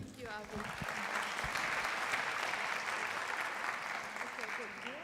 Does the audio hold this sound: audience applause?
yes